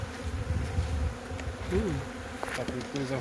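Dense, steady buzzing of many honey bees close by at the hive, a continuous drone with individual insects passing near now and then.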